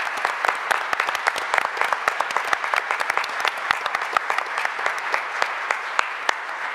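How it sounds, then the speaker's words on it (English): Dense, steady applause from an audience filling the whole stretch, many overlapping hand claps forming an even wash with sharper individual claps poking through. "let's give her a round of applause"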